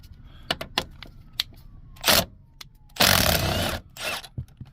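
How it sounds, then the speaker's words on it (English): An impact driver on a BMW X5 E70 during a fuel pump replacement, loosening T50 screws in short bursts of whirring rattle, one longer run, separated by faint clicks and handling noises. "So I'm gonna get my impact to take these off."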